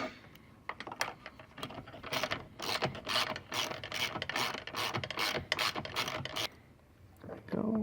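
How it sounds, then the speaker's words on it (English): A 12mm ratchet clicks rapidly and repeatedly while working on a Polaris XPEDITION shock strut, close and crisp, with metallic handling noises around it and a brief lull near the end. "take our 12mm ratchet again, pushing into place"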